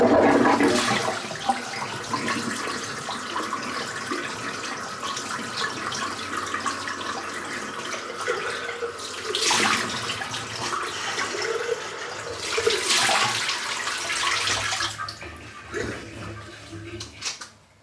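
Water running from a tap to rinse lather out of a shaving brush knot, a steady close splashing rush with surges as the brush is worked under the stream.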